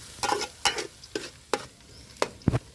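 Curry leaves frying in a pan for an aloo kurma, with a low sizzle under five or six sharp stirring scrapes spaced about half a second apart, close and isolated.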